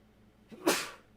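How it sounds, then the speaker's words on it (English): A single sharp sneeze, a short intake followed by a burst of breathy noise, close to the listener in a quiet room. "Getting a sneeze attack."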